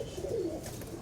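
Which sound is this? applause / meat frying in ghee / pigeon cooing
pigeon cooing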